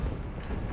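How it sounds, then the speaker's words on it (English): A flash grenade goes off in Mass Effect 2, a deep rumbling boom that fills the short moment and fades slightly without any clear talk. "That's a flash grenade."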